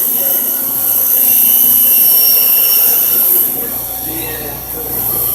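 A bench grinder runs steadily on metal, a loud constant high-pitched whine with a deep motor hum underneath, dipping slightly toward the end.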